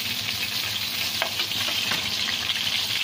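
Chicken pieces for a crispy chicken fry crackle and sizzle steadily in hot oil, a close, continuous frying hiss with faint stirring scrapes and no voices.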